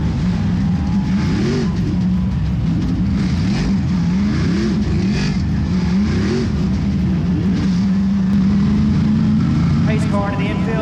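Race car engines droning loudly and continuously, several cars rumbling and revving together while pacing before a racing start, with voices talking over them.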